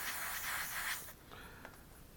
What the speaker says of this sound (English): give that a quick spray.